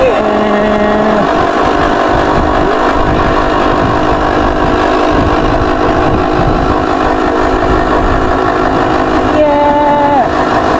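A DIY electric bike whines like a 250 motorbike, a steady loud motor tone with rising and falling pitch sweeps at the start and end.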